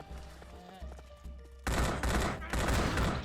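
Gunfire shooting the undead in the Xbox game Land of the Dead: after a quieter opening, loud sustained bursts of rapid automatic fire take over and repeat in heavy volleys.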